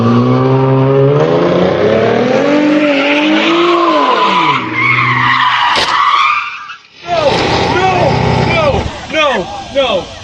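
Powerful car engine revving loudly with rising and falling pitch, followed by sharp tire squeals and skidding, close and prominent throughout.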